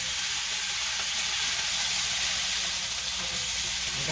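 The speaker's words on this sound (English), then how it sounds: "So I'm going to add this to the skillet." Apples fry in a hot skillet, a continuous even sizzle and hiss heard up close at steady volume throughout, with no voices.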